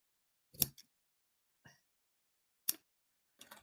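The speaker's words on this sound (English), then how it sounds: "I will use these scissors." Four sharp, separate snips of scissors cutting, close and crisp, spaced irregularly with silence between.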